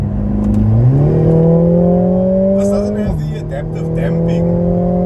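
A Mercedes-Benz A45 S hatchback accelerates hard on a bumpy road, its engine note climbing steadily through the revs, dropping briefly at a gear change, then pulling again, heard from inside the cabin with some clatter over the surface.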